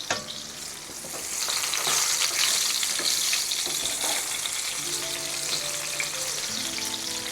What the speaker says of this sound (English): the aubergines are beginning to brown